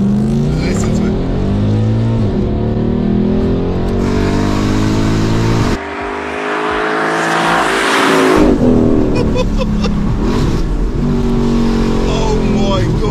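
A car engine fitted with aftermarket downpipes revs hard and loud with a raspy, booming exhaust note, briefly dropping off before surging again, with voices talking over it.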